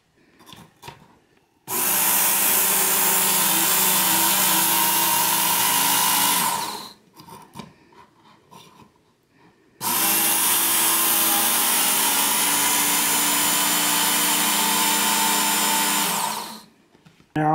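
A Work Sharp belt knife and tool sharpener grinds a Buck knife blade on its abrasive belt. Two long, loud, steady motor-and-belt whines run for several seconds each, separated by a short pause with faint handling noises.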